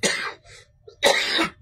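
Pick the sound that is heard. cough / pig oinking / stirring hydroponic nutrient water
cough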